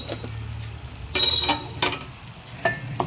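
Onions fry with ginger garlic paste in a pan, giving a close, steady sizzle broken by a few sharp scraping stirs.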